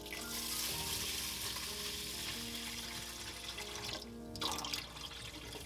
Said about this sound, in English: So I'm going to pour in water until it hits the number 2 line.